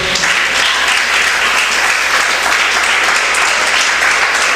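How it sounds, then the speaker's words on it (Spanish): Loud, dense applause from a church congregation, steady and close throughout with no pauses, filling the space without speech. "¿Pueden darle un aplauso al Señor?"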